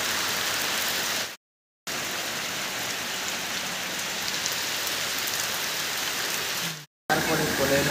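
Heavy rain pours down onto surfaces in a loud, constant hiss that cuts out briefly twice.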